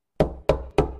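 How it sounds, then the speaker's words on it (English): Three firm knocks on a Dutch door, evenly spaced and close, each a sharp rap with a short ring, alone with no voices. "and I knocked on the door"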